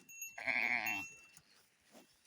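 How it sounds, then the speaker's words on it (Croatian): A single sheep bleats close by, one loud, wavering call lasting about half a second on a farm, followed by faint rustling and quiet background. "Evo ovaca."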